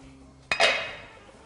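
Food dropped into a metal cooking pot gives a single close metallic clink followed by a short ringing clatter that fades out, with nobody speaking.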